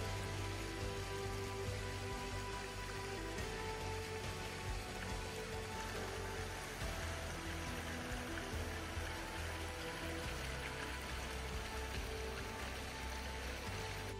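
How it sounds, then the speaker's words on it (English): Water fountains at the entrance of the Emirates first class lounge in Dubai airport's Area B splash and patter continuously, a steady rain-like wash at moderate distance with no voices. "The entrance area with the fountains was a real treat."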